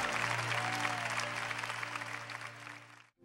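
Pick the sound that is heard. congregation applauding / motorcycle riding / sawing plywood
congregation applauding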